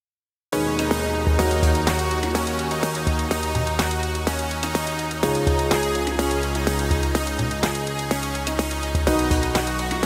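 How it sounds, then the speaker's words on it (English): A techno track built in Ableton runs through an automated chain of transition effect plugins, with a driving four-on-the-floor kick, crisp percussion hits and sustained bass, loud and continuous after a brief silent start. "And then I'm gonna automate this transition effects thing"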